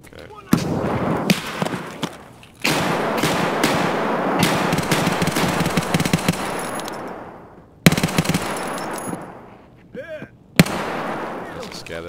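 Bursts of automatic gunfire from a scav in Escape From Tarkov on the Factory map, loud sustained volleys broken by short pauses and a few sharp single shots.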